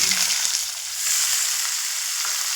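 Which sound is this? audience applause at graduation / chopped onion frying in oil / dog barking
chopped onion frying in oil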